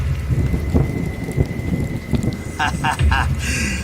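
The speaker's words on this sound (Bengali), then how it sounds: "আর সঙ্গে সঙ্গে শুরু হলো মুসলধারে বৃষ্টি" Heavy torrential rain pours steadily through a Bengali horror cartoon scene beside a graveyard, with dull thunder rumbles underneath and a few brief higher cries breaking through near the end.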